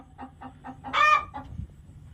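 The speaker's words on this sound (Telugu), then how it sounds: "చూడండి మన కోళ్ళు ఎట్లా ఉన్నాయి" Native country hens in a shed cluck nearby in a steady series of short, evenly spaced calls, broken once by a louder, brighter squawk.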